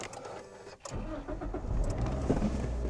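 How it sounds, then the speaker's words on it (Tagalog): A car engine starts: near-silence, then a quick crank at about the first second that catches into a loud, rumbling idle that carries on to the end, close by. "Oh, start ko na yung sasakyan."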